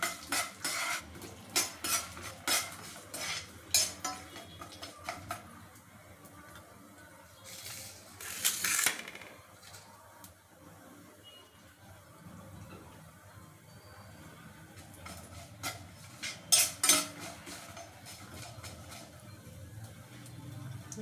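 Peanuts roasting in a pan for ridge gourd chutney, stirred with a utensil: repeated scraping and clinking strokes come in bursts over a low, steady sizzle, close and moderately loud, with no talking.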